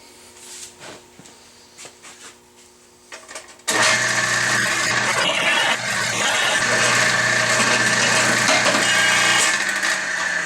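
Drilling successively larger holes for a dinner triangle bending jig, with cutting fluid on the workpiece; after a quiet start, a steady loud machine whir and grinding cutting noise begins and runs continuously to the end.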